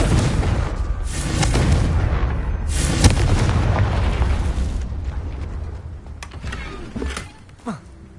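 A Confringo blasting spell explodes in the Hogwarts Legacy video game with a loud, rumbling burst that sustains for several seconds, then decays into scattered smaller pops and debris crackles.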